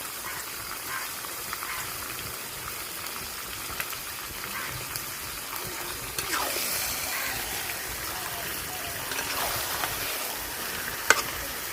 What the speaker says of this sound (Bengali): আদা রসুনের সাথে মাংসটা ভালোভাবে কষাই নিছি